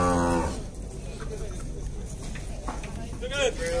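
A cow lets out a low moo at the start, then cattle fair background noise follows with faint voices and a brief higher call near the end.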